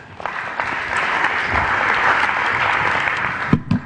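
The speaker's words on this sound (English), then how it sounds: "give her a round of applause there" An audience at a talk on workplace culture and motivating employees breaks into a short burst of applause. The clapping is full and steady for a few seconds before a couple of louder knocks end it.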